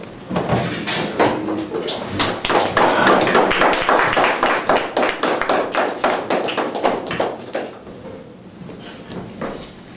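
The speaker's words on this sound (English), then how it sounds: "So would you all please give a round of applause?" Applause from an audience at a lecture as a speaker is welcomed, a dense burst of clapping that builds quickly, holds, then thins out to scattered claps before fading.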